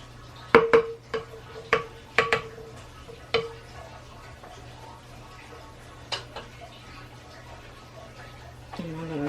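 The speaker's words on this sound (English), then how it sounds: "I'm going to give it a stir." A spoon stirs beet, carrot and orange juice, giving several sharp, ringing clinks against the container in quick succession, then a couple of isolated taps over a quiet hum.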